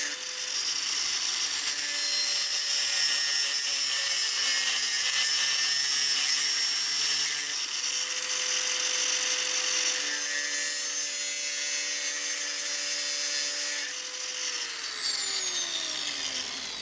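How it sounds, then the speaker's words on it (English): An angle grinder cuts a groove into a Damascus steel Japanese kitchen knife blade, a harsh, continuous high whine and rasp that shifts pitch slightly as the cut proceeds, with no talking. "I'm using my angle grinder to cut in a little groove, which will later on make the isolation of the tang easier"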